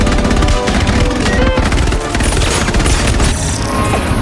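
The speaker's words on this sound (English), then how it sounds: "Faced with an army of heavily armed robot soldiers, Atlas charged head-on, fearless, while she drew all the enemy fire" Rapid gunfire from an army of heavily armed robot soldiers in an animated battle, a loud continuous barrage of overlapping shots and booms filling the whole stretch.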